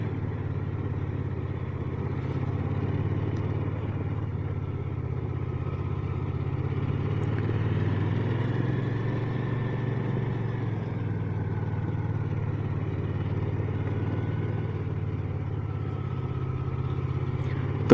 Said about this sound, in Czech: ty vole, proč tady musí jezdit zrovna auta?